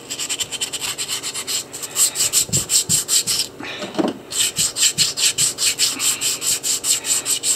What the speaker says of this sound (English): And I'm just going to give this a sanding.